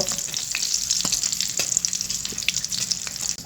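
Bay leaf, cinnamon, green and black cardamom, peppercorns and cloves crackle in hot oil for a fish pulao, a bright steady sizzle with light stirring scrapes, close and continuous.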